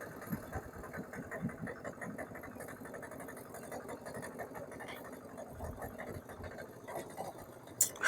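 An auto rickshaw engine with a gearbox problem runs steadily nearby, giving off a fast, rattling, sewing-machine-like chatter with a faint knock beneath it. A brief sharper clatter comes near the end.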